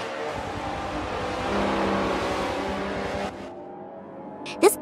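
F1 cars on a pace lap at Mugello in a Forza racing game, a continuous engine drone and whine that drops off sharply near the end, followed by a brief burst.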